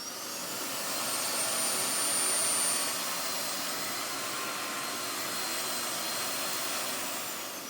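A Bosch Ultimate 7 cordless stick vacuum runs with a steady, breathy whoosh and a thin high whine. It swells slightly early on, then holds level and fairly quiet to the end. No voices.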